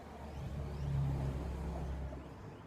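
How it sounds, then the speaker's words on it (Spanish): Cars driving up a street outside, a low rumbling engine swelling to a peak and fading as one vehicle climbs past at moderate distance, with no talk. "Ahora todos los carros suben."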